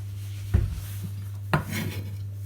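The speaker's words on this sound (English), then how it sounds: "we're going to cut the other half of the onion" A kitchen knife slices through half an onion with two crisp, separate chops about a second apart. The cuts sound close and clear over a steady low hum, with no one talking.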